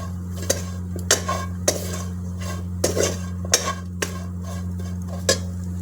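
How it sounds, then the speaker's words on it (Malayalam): A spoon stirs curry with meat masala in a pan, giving irregular metallic scrapes and knocks against the metal roughly every half second. A low steady hum runs underneath, with faint sizzling. "നന്നായിട്ടൊന്ന് ഇളക്കി കൊടുക്കാം."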